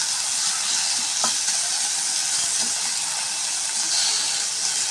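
Tomatoes sautéing in a hot pan for onion and roasted gram chutney give a loud, continuous hissing sizzle with a couple of faint stirring taps, heard close and without talk.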